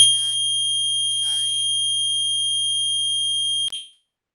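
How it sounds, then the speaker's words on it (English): Apartment fire alarm under test: a shrill, steady electronic tone with a low hum beneath, sounding continuously for several seconds with brief voices behind it before it cuts off abruptly. "testing the fire alarms right now in my apartment."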